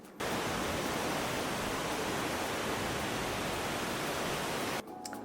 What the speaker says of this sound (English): the waves in the back do sound really nice